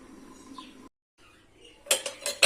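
A few sharp metallic clanks and rattles as a lid is set onto a pot of cooking kidney beans, close by, after a quiet stretch with no talking.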